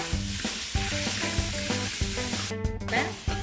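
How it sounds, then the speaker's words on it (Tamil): Tomatoes are stirred and frying in a pan with sautéed garlic and ginger, giving a steady, close sizzle broken by scraping stirs, with a steady tone running underneath and no talking. "இப்போ நம்ம இதில் தக்காளி பழம் ஆட் பண்ணுறோம்"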